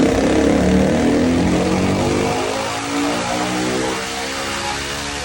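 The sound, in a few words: ATV exhaust note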